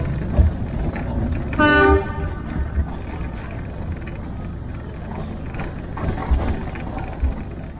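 A metre gauge train running through fog, with a steady rumble of wagons rolling past, a short horn-like harmonic toot near the start and a few thuds from the wheels, at moderate volume.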